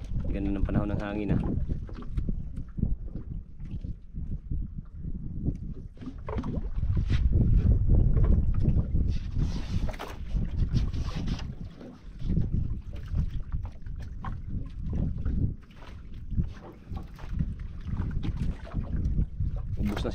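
Wind gusts roar across the microphone on an open sea boat trip, a continuous low buffeting rush that swells and fades for the whole stretch while people talk over it.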